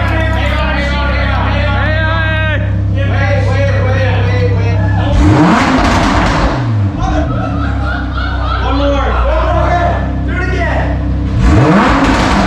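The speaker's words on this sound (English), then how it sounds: "You gotta give it a rev. You have to give it a rev." A sports car engine, either a Lamborghini Huracan or an Audi R8, revs loudly in a garage while people chatter and laugh nearby. The engine note stays steady under the voices, with a couple of sharp swells in the revs.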